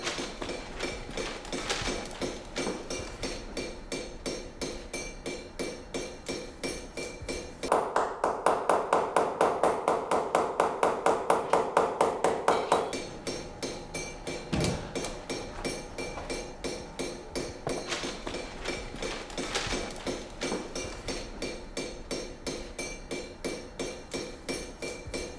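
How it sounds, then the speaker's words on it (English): Rapid, steady hand-hammer blows ring out on copper sheet over an anvil as box walls are raised, a dense run of metallic taps with a louder, brighter burst of hammering midway. "This process demands precise control of hammer force to ensure that the walls are raised evenly"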